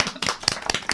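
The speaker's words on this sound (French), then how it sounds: "Et je pense qu'on peut les applaudir pour cette performance." Brief burst of audience clapping at a science talk event, several pairs of hands clapping quickly and close, no voices.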